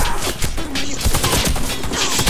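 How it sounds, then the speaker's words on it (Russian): Machine gun fire rattles loudly through a video game battle in rapid, overlapping bursts, continuous and close, with scattered crashes and no clear speech. "Там пулемет!"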